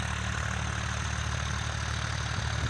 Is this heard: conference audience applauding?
no